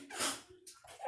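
A single sharp sneeze bursts out close by in a classroom during a fractions review lesson, followed by quieter breathy sounds.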